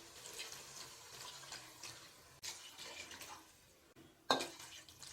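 Water is poured into a cooking pot for semiya kichadi, a faint, quiet stream with splashing and gurgling in a kitchen, ending in a brief louder splash near the end.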